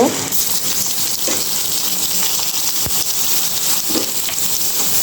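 Onion paste hitting hot oil for a thin mustard hilsa curry, a loud dense hiss of frying that holds steady throughout with a few faint stirring knocks.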